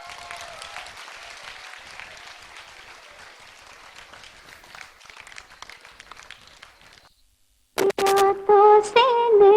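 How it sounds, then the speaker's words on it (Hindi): An audience applauds dancers at a Dev Anand birthday celebration stage show with steady, dense clapping that gradually fades to silence. A song with singing then starts loudly. "तालियों की गड़गड़ाहट जब तक आरंभ नहीं हो जाए"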